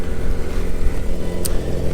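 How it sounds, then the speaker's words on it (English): A Yamaha R6 sport motorcycle with fresh oil, filter, tires and brakes runs steadily at idle, a close, continuous low engine drone with one brief high click partway through. "As you can hear, the engine's running."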